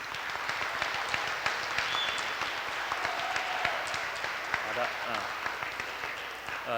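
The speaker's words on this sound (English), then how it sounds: "a round of applause for Confucius's birthday, please" At a Teacher Appreciation Day gathering, an audience claps for Confucius's birthday, a moderate spread of scattered, uneven hand claps with a few sharper individual claps, while a voice talks over part of it.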